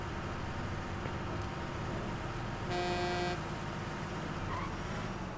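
A steady bed of video game traffic noise, with one short car horn blast standing out in the middle of a jam in a driving game.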